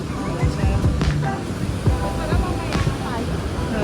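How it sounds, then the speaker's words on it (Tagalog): Strong surf crashes onto the beach at San Juan, La Union, a loud continuous roar of breaking waves with wind buffeting the microphone and a voice talking over it. "Ang lakas ng alon, no? Pang surfing to yung mga ganyang kalakas na alon eh."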